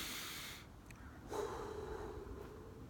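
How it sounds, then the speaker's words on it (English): A person drawing a slow, deep breath through the nose, a soft airy rush with a snort-like intake, close and alone with faint room hiss. "Can you just take a deep breath right now as I'm speaking?"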